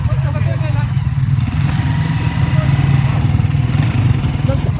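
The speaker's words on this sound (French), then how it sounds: "On va prendre la moto?" A motorcycle engine idles steadily and close by, with a low continuous rumble throughout, on a trip in Angola.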